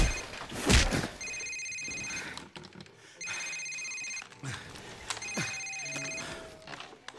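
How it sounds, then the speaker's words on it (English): A cell phone rings in a Call of Duty Modern Warfare stealth mission, three repeated electronic ring bursts separated by pauses, with thuds and ambient game noise around them. "Sir, it's his cell phone."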